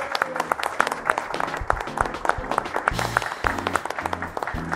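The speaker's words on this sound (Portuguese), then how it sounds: "Palmas pro Fernando, galera." A small crowd claps for Fernando at a Royal Enfield Himalayan motorcycle handover event in Campinas, with sharp individual hand claps ringing out over background music.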